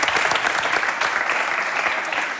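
A big round of audience clapping for Si Kamal, a guest visiting from Tozeur, sustained and loud for a couple of seconds, fading slightly toward the end.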